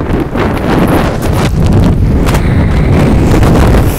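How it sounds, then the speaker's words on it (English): Strong wind blowing hard across an outdoor microphone, loud continuous buffeting rumble with gusting surges throughout. "This is strong wind."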